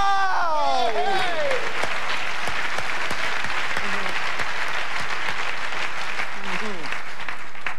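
A gala audience at the 2002 Les Olivier awards breaks into loud, sustained applause that fills the whole stretch, with whoops and voices rising through the clapping.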